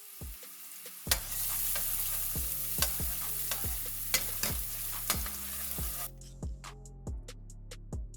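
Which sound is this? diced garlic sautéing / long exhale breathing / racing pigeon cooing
diced garlic sautéing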